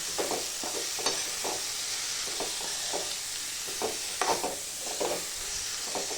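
Fresh, home-grown val bean pods are stirred in a hot frying pan, with a steady close sizzle broken by repeated scraping strokes of the spoon throughout.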